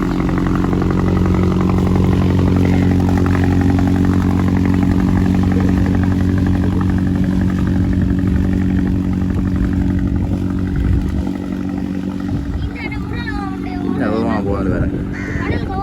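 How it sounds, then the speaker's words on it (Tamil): A boat engine runs at a shore in Jaffna with a loud, steady, close drone that keeps going throughout, while a person speaks over it. "ஒவ்வொரு நாளும் போட் வந்து கொண்டு இருக்கு பாருங்க"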